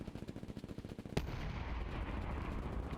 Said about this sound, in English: I shot my fucking gun.